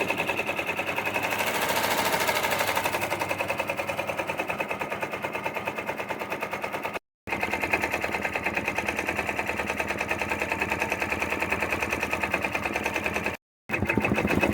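An embroidery machine stitching a satin border on a hooded towel, a fast, steady mechanical rattle of needle strokes running close and continuous, broken by two brief silent pauses.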